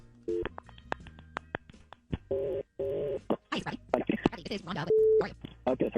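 Telephone dialing tones and a ringing or busy-signal beep on a phone call, sounding as a string of short tonal pulses and one steady held tone, with people talking over and between them.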